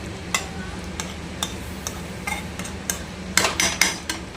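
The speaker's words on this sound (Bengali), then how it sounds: "মিক্স করবো মশলাটাকে, মিক্স করে এবার ভুনতে থাকবো। এটাকে নাড়িয়ে দিলাম ভালোভাবে।" Spiced beef being stirred in a pan for a simple beef chap, with repeated scraping and clattering strokes of a utensil over a low steady hum, growing busier toward the end.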